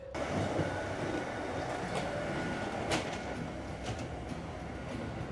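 Continuous rumbling of a moving train rolling on the rails, with rattling carriage noise and occasional metallic clacks and creaks.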